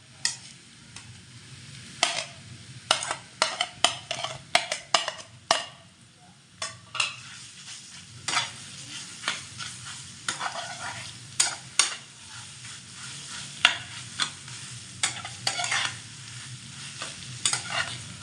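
Boiled mashed potato frying in a pan for vegetable chop, a constant sizzle broken by repeated sharp scraping and stirring strokes, fairly close, no talking.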